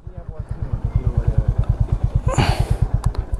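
Honda CB 350 motorcycle being ridden, its steady low single-cylinder thump pulsing evenly throughout, close and loud, with a brief rush of wind noise and a few light clicks near the end.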